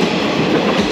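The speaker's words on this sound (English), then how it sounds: "Each of the trains that zooms by is only 2 to 3 cars deep." A short two- or three-car countryside train in rural Japan rumbles steadily past up close, with a continuous loud rolling roar and faint clickety-clack of wheels on rails throughout.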